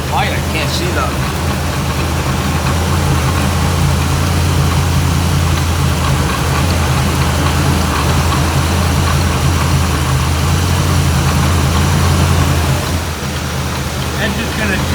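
A steady, low engine idle from a 1984 Chevy Blazer at its lowest idle setting rumbles continuously, close and even, with a slight dip near the end.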